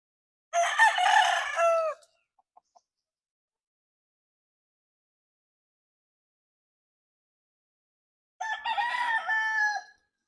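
A nine-month-old Boston Roundhead gamefowl stag crows twice, loud and close, the two crows about seven seconds apart with near silence between.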